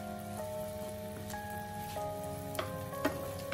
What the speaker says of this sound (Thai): เนยเริ่มละลายแล้วนะครับเราลงหน่อไม้ฝรั่งไปเลยนะฮะ